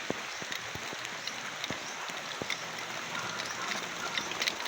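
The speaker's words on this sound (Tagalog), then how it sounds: "Naabutan po kami ng ulan." Heavy rain falling steadily on a surface near a highway, a dense patter with scattered louder drops and taps, moderately close, with no voices.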